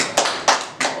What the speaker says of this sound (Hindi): फिर ये लो ताली बजा दे इसके लिए तो यार